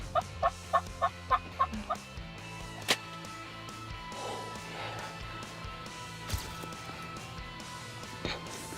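A wild turkey gobbles in a quick rapid burst of about six calls near the start, followed by a few sharp knocks and scattered fainter calls against a background hum.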